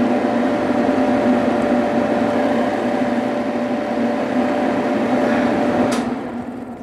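A bathroom exhaust vent fan runs loudly and steadily with a constant whirring hum and airy hiss, followed by a short sharp click near the end as the sound begins to ease.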